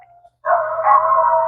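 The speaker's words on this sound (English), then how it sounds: "my neighbor's dogs are spazzing out because another neighbor is walking their dogs" Several dogs next door bark and howl in a sustained, excited burst, starting abruptly after a brief quiet moment and continuing loud and close.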